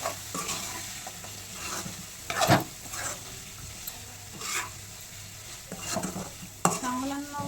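Spicy chicken curry fries in a pan with a soft continuous sizzle, broken by scraping stirs and clinks of a spoon against the pan at irregular moments, close and fairly quiet.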